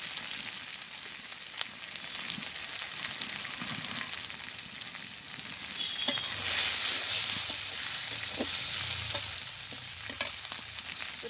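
Oil sizzles and fries steadily in a pan in a village kitchen, a continuous bright crackle with soft stirring scrapes and a few louder pops, with no voices over it.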